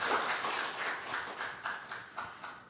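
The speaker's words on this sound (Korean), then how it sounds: "큰 박수로 환영해 주십시오." A group claps in a fairly steady rhythm at a National Assembly forum in Korea, the sharp beats repeating evenly and fairly faint, with no other sound.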